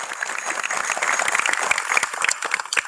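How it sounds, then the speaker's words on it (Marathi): An audience claps heartily to welcome the Vaykar family at a family gathering of a Warkari dindi procession in Shiroli, a dense, continuous burst of many hands close by. "जोरदार एकदा टाळ्या वाजवून त्यांचं स्वागत करूया।"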